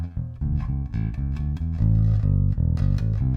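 A Fender Precision bass plays a steady line of low, round notes with a slightly driven, gritty edge, close and moderately loud, no voices.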